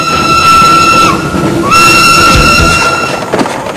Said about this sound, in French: Cette locomotive est la reconstitution de la première locomotive à vapeur française, inventée en 1829 par l'ingénieur français Marc Seguin